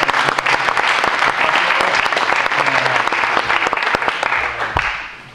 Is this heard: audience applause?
yes